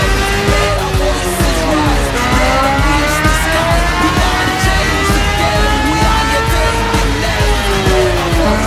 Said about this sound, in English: We're going to warm up the bike real quick, and then we're going to go ahead and do some baseline runs